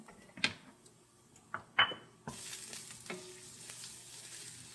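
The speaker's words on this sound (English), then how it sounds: "You can see it's nice and hot and sizzling." Minced garlic sizzles in hot oil in a pan with a steady hiss, broken by a few sharp clinks and scrapes of a utensil.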